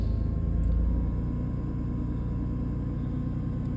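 An old car with over 210,000 km idles after a cold start, its engine a steady low rumble with a faint rattling tick from a noisy timing chain, close and continuous.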